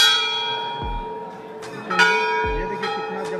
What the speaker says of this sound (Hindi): और ये देखिए दोस्तों मेन घंटा